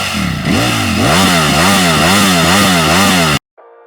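A loud motorcycle engine revs repeatedly, rising and falling in a rapid rhythmic pattern, close by, then cuts off abruptly.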